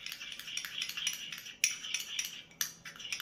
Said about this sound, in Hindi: चम्मच से कर रही हूँ इसको मैं